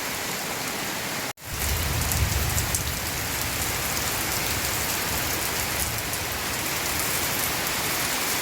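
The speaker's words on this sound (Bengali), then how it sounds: "প্রচণ্ড বৃষ্টি হচ্ছে" Heavy early-monsoon rain pours onto a garden in a steady, loud, dense roar of drops that drops out briefly once before resuming unbroken, with no voices.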